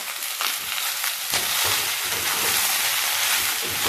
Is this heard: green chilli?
yes